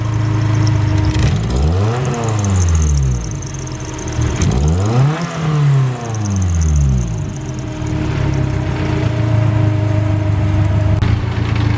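A cold car engine warming up, running with a steady mechanical rattle and rumble for the whole stretch, its pitch sweeping up and down twice as it is revved, then settling back to a fast idle.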